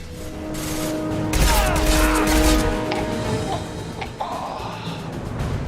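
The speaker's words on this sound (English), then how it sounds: "Blue Suns and Vorcha shooting anything that moves." Gunfire in Mass Effect 2 on the lawless Omega station, a burst of loud crashing shots and impacts over a humming ambient backdrop with steady tones, fading to scattered smaller noises.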